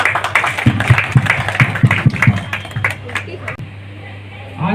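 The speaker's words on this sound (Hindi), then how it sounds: "जोरदार तालियां।" Audience at an Independence Day function in Jhansi breaking into loud applause, rhythmic claps for a few seconds that fade out, with a voice over the clapping.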